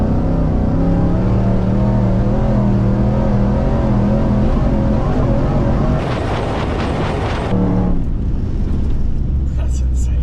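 A truck fitted with a Blitzkrieg Raptor front kit and a 4-link drives along with a steady loud engine drone, rising briefly in a rev near the end, and voices talk over it throughout.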